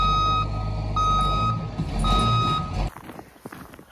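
Backup alarm beeping from a tow truck pulling a stuck vehicle out of a roadside ditch, three steady pulses over a low rumbling engine, then the rumble cuts off abruptly and only faint background remains.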